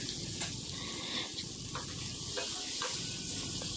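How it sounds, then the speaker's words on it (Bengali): Chili dish sautéing in a pan, a steady close sizzle and fry with soft stirring scrapes, no talk over it. "দিয়ে আবার একটু কিছুক্ষণ কষিয়ে নেব"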